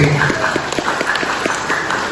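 Audience applause at a third-anniversary military ceremony: brief, steady clapping from a crowd with a rhythmic pulse, mixed with some voices.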